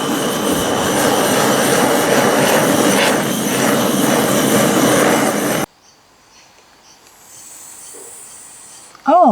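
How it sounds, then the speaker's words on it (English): A small gas blowtorch of the kind used for creme brulee roars with a loud, steady hiss for about five seconds, then cuts off, leaving near silence and a brief noise at the end. "This is actually used for creme brulee. It's just a little blowtorch. Put on the gas"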